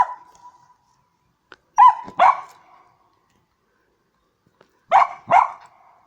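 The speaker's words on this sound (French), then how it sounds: "c'est un chien qui aboie dans un cimetière" A dog barks in a cemetery in two separate pairs of sharp barks, with quiet pauses between, fairly close and otherwise still.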